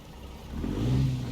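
A brand-new E6 truck engine in American Truck Simulator revs up from a low rumble to a steady, louder drone with a humming tone, heard close with no talking.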